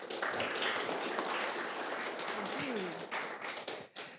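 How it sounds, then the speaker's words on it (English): An audience applauds two speakers at a tech event. Dense clapping holds for several seconds, then thins and breaks up as a voice starts near the end. "So let's give a round of applause to Annalise and Emil."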